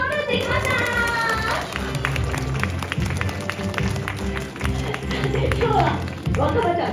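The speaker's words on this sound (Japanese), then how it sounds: "端まで行ったら皆さん若葉に大きな拍手。" A crowd claps at a live cat show in Nasu Animal Kingdom as the cat Wakaba performs a balance act; steady applause with sharp taps, mixed with a presenter's voice talking over it.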